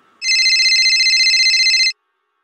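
A phone rings loudly in one continuous electronic trill lasting nearly two seconds, then stops abruptly into silence.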